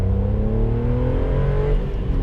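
A 2017 Toyota car pulls away from traffic lights, its engine rising in a steady, loud, close acceleration with pitch climbing throughout, alone without talk.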